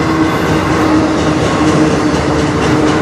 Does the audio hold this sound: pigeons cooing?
no